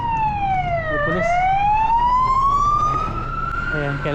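A police car siren in New Zealand sweeps up and down as it passes along a road, loud and steady over traffic rumble, with a voice briefly audible underneath.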